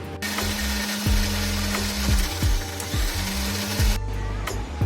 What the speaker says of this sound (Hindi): इन सबको मिला के मिक्सी में ग्राइंड करेंगे।